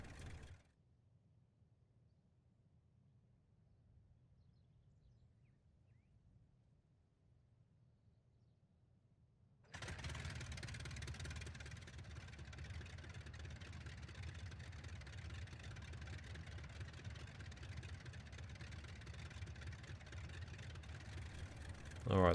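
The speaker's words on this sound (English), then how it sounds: "so now the engines are started" Engines of a Gotha G.V bomber in a flight video game start up after a near-silent stretch, then run as a steady droning idle that continues loudly to the end.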